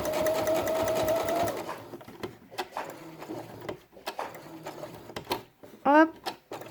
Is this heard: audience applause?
no